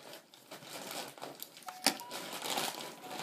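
Crinkly plastic packaging being cut and pulled open to unbox a Society6 tote bag: close, irregular rustling and crackling with a sharp snip or tear partway through.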